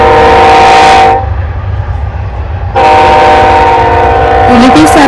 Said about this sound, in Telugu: ఇలా ట్రైన్ కూడా వచ్చింది